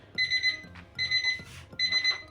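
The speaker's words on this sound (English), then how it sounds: "Of course the timer just went off, so I'm gonna take all the rolls out of the oven." Kitchen timer going off while cinnamon rolls bake, three bursts of steady high electronic beeping with short pauses between, over faint kitchen background noise.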